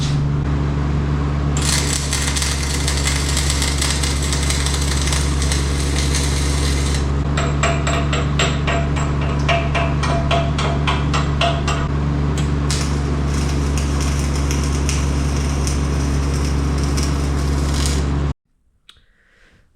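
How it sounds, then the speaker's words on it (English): Arc welding on a worn front axle of a compact road grader during a rebuild, a steady loud crackling buzz that runs unbroken for about eighteen seconds before cutting off abruptly, with a low machine hum beneath. "we're going to get at it and start doing some welding here"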